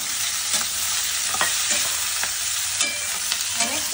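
Lemongrass root and onion fry in a pan, a constant close sizzle broken by repeated scraping strokes of a spatula stirring the pieces.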